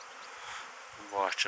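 Honeybees buzz around the hives of an apiary on a late-season flight, a steady close drone that swells briefly as one passes near.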